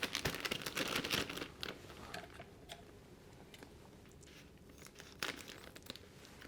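Scissors cutting the corners off plastic bags of rice flour and tapioca in a kitchen, heard as a loud burst of crinkling and snipping at the start, then quieter scattered rustles and one more crinkle near the end.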